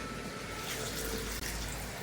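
Water pours steadily into a pot during home cooking in an Odia kitchen, a continuous close splashing wash that runs for about two seconds with one brief break near the end.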